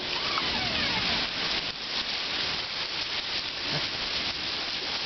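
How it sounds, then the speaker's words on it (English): Steady rainfall in the California desert, a dense continuous hiss of drops on surfaces, moderately loud and unbroken, with no voices. "here's the rain, and it really is raining."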